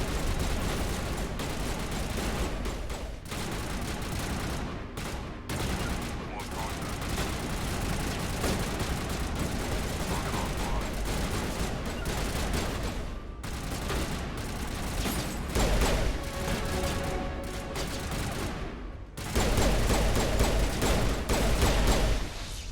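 Sustained bursts of turret gunfire in the sci-fi video game Mass Effect, a dense, loud barrage of rapid shots and impacts running nearly continuously, with short lulls and heavier volleys near the end.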